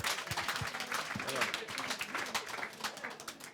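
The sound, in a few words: audience applause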